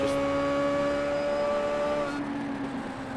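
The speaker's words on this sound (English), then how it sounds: "Listen to that engine note." A classic Indycar engine in a sim racing game at the Montreal circuit, holding a steady, high harmonic drone that drops off and fades after about two seconds.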